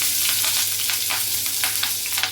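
Green chillies frying in hot oil in a pan as the base for a cucumber fry: a dense, steady sizzle close by, with repeated brief crackling bursts and stirring scrapes, and no voices.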